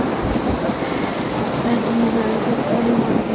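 Heavy monsoon rain pours down hard and steadily, close and loud, with a low rumble of thunder underneath. The roar is even and continuous from start to finish.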